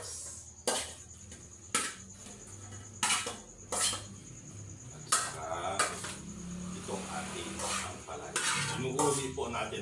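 Winged beans dropped into a pot with sweet potato and leftover milkfish for inabraw, sharp clanks of utensils against the pot at intervals, with stirring and soft bubbling between them.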